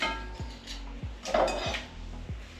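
Chicken wings dropped into a mixing bowl, giving four evenly spaced low thuds with light clinks of bowl and utensil, close and fairly quiet, with no talking.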